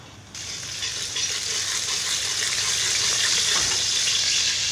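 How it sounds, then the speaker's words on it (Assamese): Cooking oil heating in a pan before chicken liver is added, giving a steady, fairly loud broadband hiss and crackle that swells slightly after the first moments and holds evenly throughout. "তেল দিলোঁ তেলখিনি গৰম হ'বলৈ দিছোঁ"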